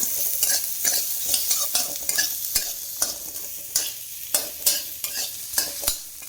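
A small batch of potatoes fries in a pan while a spatula stirs them, giving a continuous sizzle and repeated scraping strokes, close and fairly loud, with no voices.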